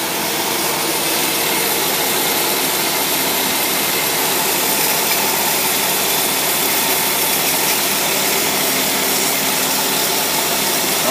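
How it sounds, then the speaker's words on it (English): A carbureted engine fitted with a Carter AFB carburetor runs steadily at close range, giving a loud, continuous broadband roar and whoosh that never changes through the clip, with no speech. "That carburetor runs absolutely perfect."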